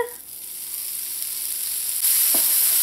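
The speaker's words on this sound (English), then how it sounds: "So I'm just going to cook this bacon until it starts to crisp up." Bacon renders in a hot pan with a steady, close frying hiss that grows louder and brighter toward the end, with no voices.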